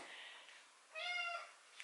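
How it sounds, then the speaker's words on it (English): A house cat meows indoors, one clear, drawn-out meow that starts faint and then rings out loud and close, with no talking over it. "He meow and meow and meow when I don't have the camera on him."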